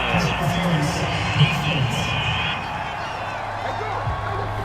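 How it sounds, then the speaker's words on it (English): Simulated stadium crowd in the Madden NFL 22 football video game, a broad roar of cheering that swells early and then eases to a steadier murmur, with faint voices over it. "This home crowd, they're happy with that call."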